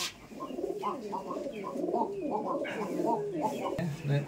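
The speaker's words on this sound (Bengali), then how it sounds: "খাসার কবুতর ওগুলো" Khasa pigeons coo close by in a rhythmic series of throaty, repeated calls, with a quiet voice briefly in the background.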